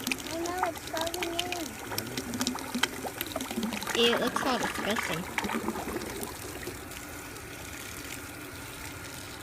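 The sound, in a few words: water draining from clay slurry through a screen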